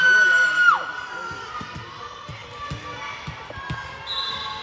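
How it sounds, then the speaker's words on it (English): Team bench cheering during a 13U girls' youth volleyball provincials match, a sustained crowd of young voices shouting under repeated ball bounces and court thumps in an echoing gym. "Great cheering"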